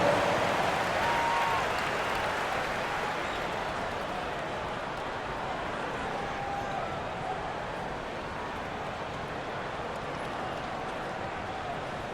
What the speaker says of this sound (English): Dance crew. Give them a round of applause.